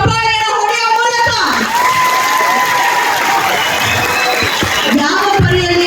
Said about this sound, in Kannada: ಮೊಬೈಲ್ ಫೋನ್ ಜೇಬಲ್ಲಿ ಇರಿಸಿಕೊಂಡು ಎರಡು ಕೈ ಮೇಲೆ ಮಾಡಿ ಚಪ್ಪಾಳೆಯನ್ನು ಹೊಡೆಯುವ ಮೂಲಕ